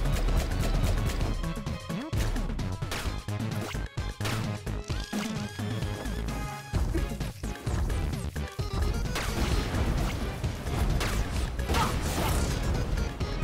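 Explosions and crashing impacts from Shantae: Half-Genie Hero come in a dense, continuous barrage over game music, loud and busy throughout.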